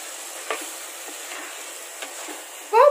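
Spoon stirring village-style dry fish curry with boiled lima beans and jackfruit seeds in a hot pan, faint soft scraping strokes at a quiet level, ending in a short louder clatter of the spoon.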